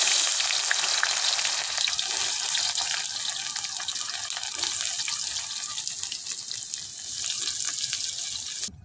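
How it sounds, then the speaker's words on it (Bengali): Onion and garlic fry in a pan during village cooking, giving a loud, constant crackling sizzle up close that runs steadily throughout without voices. "কড়াইয়ে দেওয়া আমাদের পেঁয়াজ রসুন হালকা করে ভাজা হয়ে গেছে"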